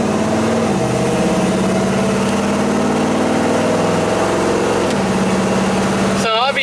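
A Chevy C10 work truck's engine drones steadily and fairly loud while driving, its pitch sliding down and back up with shifts, before a sudden rattling burst at the very end.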